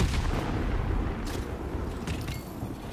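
Bursts of gunfire in the Anthem video game on PS4, a dense run of booming shots and rumbling blasts rolling on without pause, loud and close, with no voices over them.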